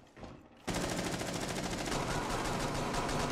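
Rapid automatic gunfire in Rainbow Six Siege erupts after a short quiet moment and keeps rattling nonstop, close and loud, in a dense continuous burst.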